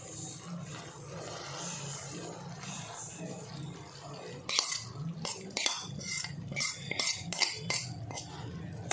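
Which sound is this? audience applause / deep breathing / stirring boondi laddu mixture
stirring boondi laddu mixture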